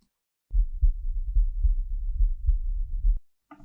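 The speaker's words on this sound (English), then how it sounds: "So it's actually the heartbeat." A heartbeat sound effect used in a video edit pulses as a steady series of deep, muffled low thumps, loud and isolated, stopping abruptly before a brief faint noise at the end.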